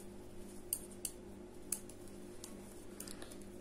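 Scissors snipping through a knitted stitch loop on a lacy openwork vest, a few faint, sharp clicks spaced irregularly over quiet background hum.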